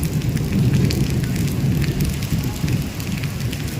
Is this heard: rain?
yes